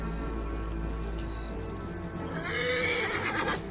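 A horse in Assassin's Creed Origins snorts and whinnies, close and fairly quiet, with a few hoof shuffles, and a louder neigh rises near the end.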